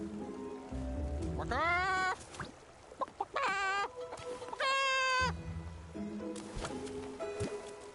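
Repeated loud, nasal clucking calls from a giant creature in the video game Infinity Nikki, in rising, stuttering bursts, with brief talking in between and steady background noise throughout.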